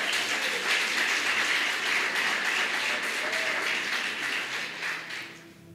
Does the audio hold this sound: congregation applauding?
yes